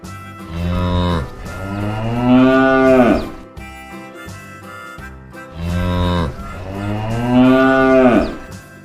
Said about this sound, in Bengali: গয়ে গরু বাছুর দাঁড়িয়ে আছে